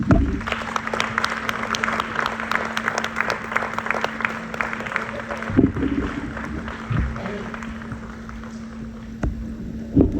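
A concert audience at an Indian classical performance applauds to welcome sitar maestro Ustad Tejendra Narayan Majumdar, a broad sustained roll of clapping with a steady tonal hum underneath, easing slightly toward the end as a voice briefly speaks.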